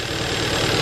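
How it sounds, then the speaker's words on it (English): A Hyundai Veloster Turbo engine idles with a misfire, a steady, close, broadband rumble and vibration that continues without a break and without any talking. "So our engine is misfiring again."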